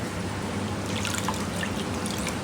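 Filter media from a live seafood holding system being rinsed by hand in tank water, giving a steady close trickle and dribble of splashing water with no talk.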